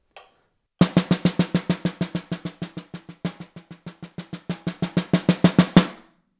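A snare drum plays a steady stream of single accented strokes with no buzz rolls. The strokes grow softer through the middle, then swell louder again before a final hit.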